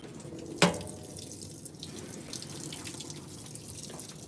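Water running steadily into a GE GTW465ASN9WW top-load washing machine during a rinse fill, a continuous hissing flow with a brief sharp clunk near the start.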